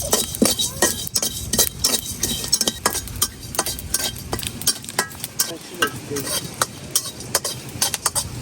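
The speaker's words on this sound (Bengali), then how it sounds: "আমি কিছু গোটা গরম মশলা দিয়ে দিলাম আর অল্প একটু জিরা এখন হালকা করে একটু বাইজে নিলাম" Whole garam masala and a little cumin frying in a pan: a continuous soft sizzle with frequent sharp clinks and scrapes of a spoon stirring against the metal, and occasional talking in the background.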